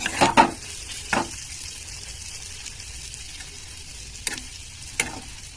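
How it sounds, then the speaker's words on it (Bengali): A faint, steady sizzle of potatoes frying in a pan, broken by a few sharp scraping clicks of stirring near the start and end. "এই যে আলুগুলো দেখো ভাজা হয়ে গেছে"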